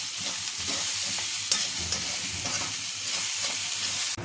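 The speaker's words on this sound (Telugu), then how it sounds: "సో ఇది మొత్తము 4 పక్కల బాగా కలిపేసుకుందాం." Bitter gourd masala stirred and fried in a pan, a steady loud sizzle with repeated scraping strokes of a spatula, close and continuous, with no voices.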